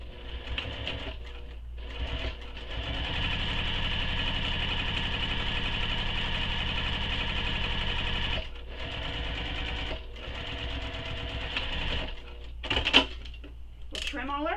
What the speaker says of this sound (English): this one has two rows of stitching, so you'll want to make both rows of stitching